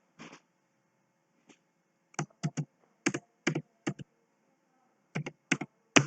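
Keys clatter on a computer keyboard in scattered quick clusters of clicks with short pauses between, close and fairly quiet in an otherwise still room.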